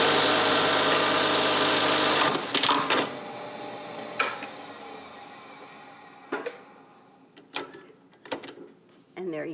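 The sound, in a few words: industrial buttonhole sewing machine stitching a buttonhole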